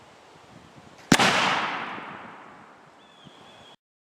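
A single rifle shot cracks loud and close while aiming at a steel target, followed by a long rolling echo that slowly fades over a few seconds.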